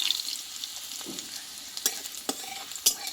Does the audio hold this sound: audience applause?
no